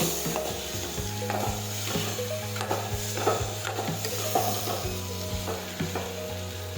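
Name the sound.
green cowpea curry being sautéed in pan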